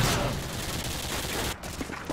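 SMG and assault rifle fire in the video game Modern Warfare 2: a dense, loud, continuous stream of rapid shots with a short break near the end, followed by a few more scattered shots.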